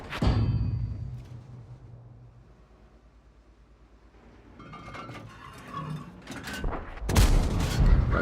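A tank gun in World of Tanks fires with a heavy boom, followed by rumbling engine and mechanical noise and a second loud blast near the end.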